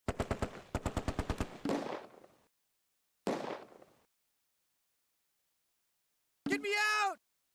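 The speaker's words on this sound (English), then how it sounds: "The Vickers opens up." Vickers machine gun fire in the WWII strategy game Close Combat, set during Operation Market Garden: a long rapid burst, then a shorter burst after a pause, followed by a brief voice-like shout near the end.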